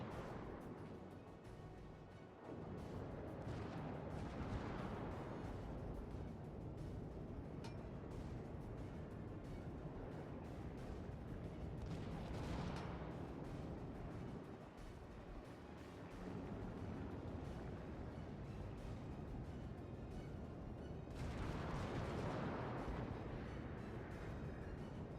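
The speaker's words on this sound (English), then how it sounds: "the New Mexico reloads and her artillery shells sing out" Battleship New Mexico in World of Warships lets loose heavy artillery salvos, each a deep booming blast that swells and rolls out over several seconds, recurring about three times over a continuous low rumble of sea and engine.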